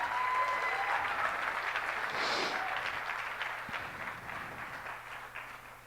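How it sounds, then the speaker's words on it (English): Audience applause at the Bangladesh Business Summit 2025, a steady wash of clapping from a large crowd that holds loud and then slowly fades. "So let's give a big round of applause to ShopUp."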